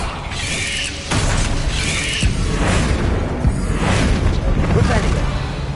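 Fiery Confringo blast spells from Hogwarts Legacy burst in a dense, loud run of booming, shattering impacts with whooshing tails, layered over busy game effects and a continuous rumbling bed.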